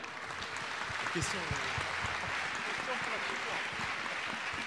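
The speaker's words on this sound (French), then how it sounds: "On peut applaudir, on peut applaudir." A studio audience applauds steadily and fairly loudly throughout, a dense wash of clapping with cheering voices rising over it.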